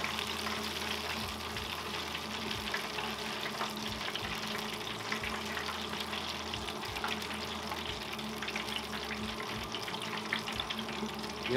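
A second batch of kingfish balls bubbling in hot oil in an R.V. Works Cajun fryer at about 150 degrees, a steady, faint sizzle and hiss that carries on without a break and with no voices.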